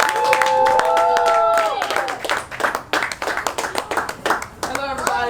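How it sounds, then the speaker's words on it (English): A small crowd claps and cheers for a recent graduate walking out at a community event, quick uneven hand claps building after a sustained tonal sound, with voices calling out over the applause. "So give her a round of applause as she comes out."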